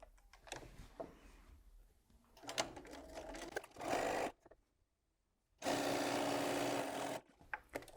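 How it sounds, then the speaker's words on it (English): A home sewing machine stitching layer cake quilt pieces right sides together with a quarter-inch seam, running in two bursts of steady whirring separated by quiet handling of fabric, close and moderately loud. "So we're going to sew this together, right sides together, and again it's 1/4 of an inch seam throughout."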